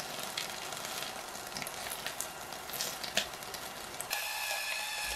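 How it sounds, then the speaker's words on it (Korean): Sliced paprika stir-fries in oil over medium heat with a continuous, even sizzle and faint crackles, close and steady for the whole stretch, alone without talk. "오일 한 큰술 둘러주고 썰어놓은 파프리카를 모두 넣으세요. 중불에서 1분간 볶으세요."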